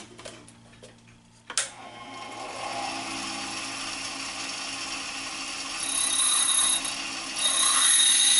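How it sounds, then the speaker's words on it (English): Bench grinder with a white stone grinding metal, starting with a sharp contact and then a steady, loud, sustained rasping whine that grows brighter toward the end, with no talk. "Let me just grind on one and see what happens."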